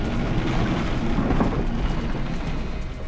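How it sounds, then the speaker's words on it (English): Hail strikes the fuselage of TACA Flight 110 during a violent storm, a dense loud continuous rattle and rumble under a low thundery roar, steady throughout with no voices. "You could hear the hail hitting the plane."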